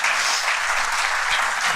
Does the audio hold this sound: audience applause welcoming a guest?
yes